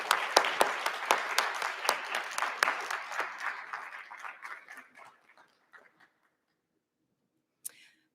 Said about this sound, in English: Let's give one more round of applause for these students.